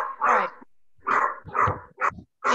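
A dog barks repeatedly and loudly nearby in an irregular series of gruff barks with short pauses, alone without talk, picked up during an online video meeting.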